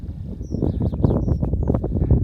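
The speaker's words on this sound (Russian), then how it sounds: "Вот, птицы." Birds calling outdoors on a walk in the hills near the Lena River, a few thin high chirps and whistles over a rumbling, steady background of footsteps and outdoor noise.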